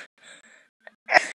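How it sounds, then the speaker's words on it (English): A short sharp sneeze bursts out after a quick intake of breath, close and loud. "I had to sneeze right there."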